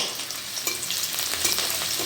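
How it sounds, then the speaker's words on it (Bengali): Chopped onion fries in white oil in a wok, a loud steady close-up sizzle with brief crackling bursts and no voices. "কড়াতে সাদা তেল দিচ্ছি দিয়ে কুচানো পেঁয়াজ দিচ্ছি"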